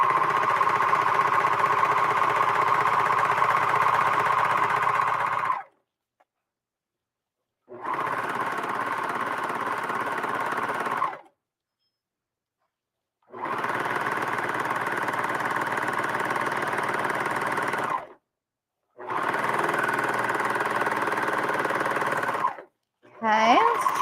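A serger sewing machine stitching a ruffled lettuce-edge hem whirs steadily in four separate runs of several seconds each, with silent pauses between them. The sound is close and even, and no voices are heard.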